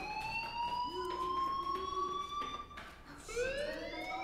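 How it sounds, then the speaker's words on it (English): An electronic fire alarm in the video game Life is Strange wails continuously in a steady rising tone, moderately loud, with a brief dip and restart near the end and no talking over it. "do you hear that fire alarm? That means you should be outside."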